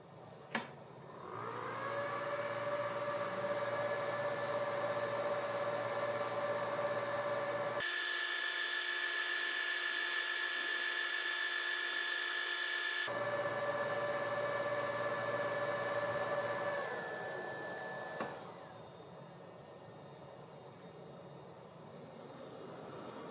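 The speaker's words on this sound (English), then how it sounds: "The laser made it through in one pass." An xTOOL P2 55W desktop laser engraver cuts through a 19 mm pine board at high power and slow speed, giving a steady fan-like whir with a sustained tonal hum. A brief higher whine sounds in the middle before the machine winds down.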